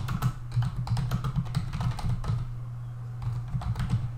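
Steady typing on a computer keyboard while entering an account name, continuous close clicking keystrokes with a short pause before a final burst, over a faint hum.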